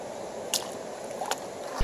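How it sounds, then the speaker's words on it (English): A phone drops into river water, giving two brief wet splashes that are fairly close over a steady outdoor background. "Dropped my phone in the water."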